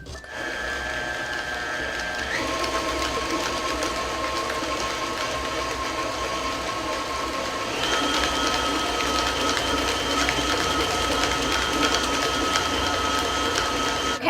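A hand mixer beats sweet potato pie filling with a steady, loud mechanical whir that runs unbroken throughout, its motor pitch shifting noticeably partway through.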